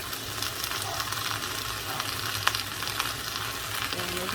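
Beef or other meat frying with vegetables in a pan, a steady close sizzle with occasional stirring scrapes, continuous throughout with no talking.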